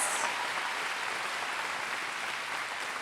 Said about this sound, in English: Please clap it up again for these amazing state representatives.